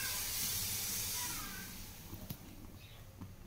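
Pumpkin-shaped balls of cow's-milk chhana and flour dropped into boiling sugar syrup, a steady loud hiss and sizzle that eases off into a softer bubbling simmer.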